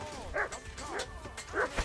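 A dog in Kingdom Come: Deliverance II gives several short yelping barks and whimpers, moderately close, over a low murmur of game ambience.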